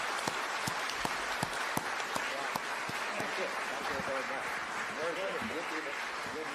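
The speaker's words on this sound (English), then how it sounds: "Please join me to give a very big applause to our two prominent scholars" A university debate audience applauds two scholars, dense sustained clapping from a large crowd that holds steady throughout, with a few sharper claps standing out near the front.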